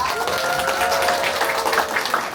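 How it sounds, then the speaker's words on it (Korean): A Korean book-talk audience in Geoje applauds a guest questioner, giving a dense, steady burst of clapping that fills the room at even loudness with a faint murmur of voices beneath. "박수 부탁드립니다"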